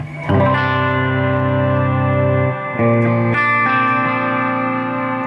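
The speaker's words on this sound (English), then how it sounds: "My first main reverb is just like a plate." Sustained electric guitar chords through a Strymon Big Sky reverb pedal on a plate setting ring out with a lush, spacious reverb tail, played loud, with a brief pause before the next chord swells in.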